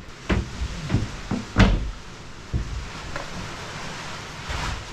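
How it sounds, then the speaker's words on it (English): A wooden cupboard door aboard a wooden boat gives several short knocks and clunks spread unevenly over a few seconds, fairly close, with quiet room tone between them. "I got to open this door."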